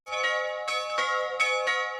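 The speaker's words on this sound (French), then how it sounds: "Ding Dang Dong fait le tout dernier sonneur de cloche du Jura bernois" A church bell in the Bernese Jura is hand-rung, its loud, close, ringing tone sustained throughout with repeated strikes about every third of a second, overlapping into a continuous shimmering peal.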